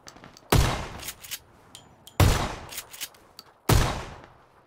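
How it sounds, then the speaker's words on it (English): Gunfire in a PUBG match sounds as three loud, sharp shots spaced over a few seconds, each with a ringing decay, plus fainter distant pops and clanks in between. "Is all that gunfire at you just then?"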